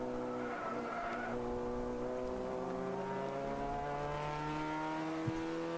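A ChampCar endurance race car on a road course passes close by, its engine note climbing and sweeping downward in long harmonic glides over steady track noise, with a brief sharp knock near the end.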